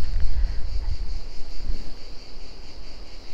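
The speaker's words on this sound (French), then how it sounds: "les grillons sont là" Crickets chirp outdoors near an ocean dune as a steady, high, shimmering drone, with low wind rumble beneath and no voices.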